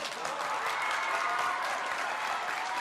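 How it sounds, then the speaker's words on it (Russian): A television studio audience claps in a full, even burst of applause, many hands together without a break. "Так что это были не искренние аплодисменты"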